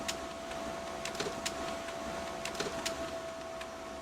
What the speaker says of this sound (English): The printer is working.